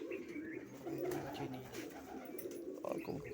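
Big domestic pigeons in a pair offered for sale give low, rolling coos, close and continuous with slight swells in loudness, and no voices over them.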